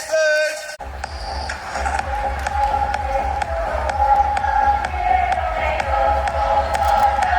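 Parents and spectators at a school sports day clapping and cheering before a 100-metre race, a busy crowd noise with rhythmic claps and shouts, under a loudspeaker voice and a faint tone.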